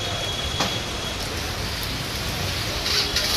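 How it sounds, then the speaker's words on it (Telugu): Heavy, continuous rain in Hyderabad falling as a dense, even hiss with a few louder drops and no voices. "నిన్న రాత్రి నుంచి ఎడతెరిపి లేకుండా వర్షం కంటిన్యూస్ గా కురుస్తూనే ఉంది"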